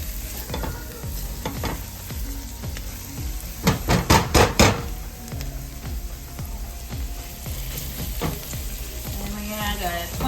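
Meatball sauce ingredients fry and sizzle steadily in a pan for spaghetti sauce, with a spoon stirring and scraping in repeated strokes and a brief burst of louder knocks partway through, close and continuous.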